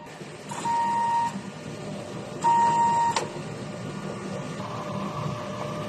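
A DTF printer runs a print head cleaning cycle, a steady mechanical hum and whir broken by two short electronic beeps, the second followed by a louder burst of pump and carriage motor noise.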